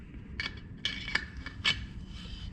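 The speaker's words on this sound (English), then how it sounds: "And then we can reinstall the bulb like so." Small plastic clicks and scrapes as an Auxito LED headlight bulb is seated back into the headlamp housing of a supercharged Pontiac 6000, several short close taps and rubs spaced over a couple of seconds.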